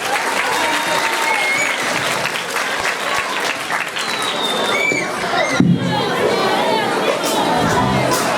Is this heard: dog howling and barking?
no